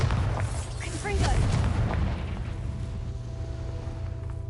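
In Hogwarts Legacy, Bombarda and Confringo explosion spells go off as deep booming blasts and rumbling debris, with a voice calling out over the first blasts before a fading rumble.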